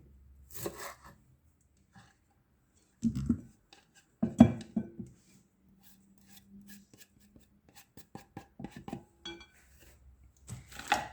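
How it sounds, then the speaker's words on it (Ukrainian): A knife cutting dill on a board, with scattered short bursts of chopping and scraping separated by quiet gaps, close and fairly soft. "Наріжемо кріп і додамо до сиру."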